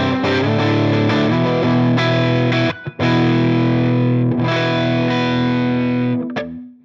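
Heavily distorted electric guitar through a Headrush MX5 on high gain with the bridge pickup plays thick sustained chords close up, briefly cut off near the middle, then rings on before stopping abruptly.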